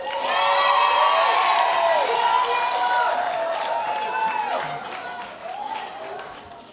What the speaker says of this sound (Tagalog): malakas ang palakpak nila